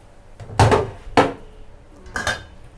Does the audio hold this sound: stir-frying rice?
yes